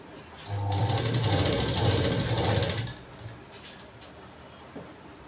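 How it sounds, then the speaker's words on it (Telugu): Sewing machine stitching a lace design around the neckline of a frill blouse, a loud steady rapid whirring run for about two seconds, then stopping into quiet room tone with a faint click near the end. "ఇలా నెక్ చుట్టూ మీరు ఈ లేస్ డిజైన్ అనేది స్టిచ్చింగ్ చేసుకోవాలి."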